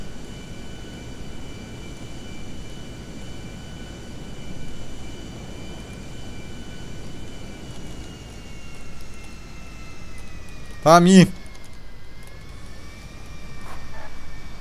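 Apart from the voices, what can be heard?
airplane engine in a video game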